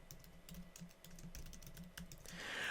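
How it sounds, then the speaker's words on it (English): Someone types a password on a computer keyboard, a quick run of close, crisp key clicks in an irregular rhythm, quiet and alone, fading into faint hiss at the end. "And so I'm going to type in a different password."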